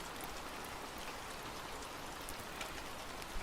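Steady rain falls in a dense, even hiss with fine pattering droplets, faint and continuous with no voices.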